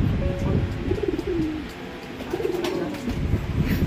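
Racing pigeons coo softly after returning home to the loft, with a few rising, warbling calls standing out over a steady rustling background.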